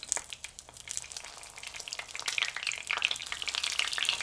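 Zucchini tortitas fry in a pan with a bright, crackling sizzle and popping oil, close and lively, building slightly louder toward the end.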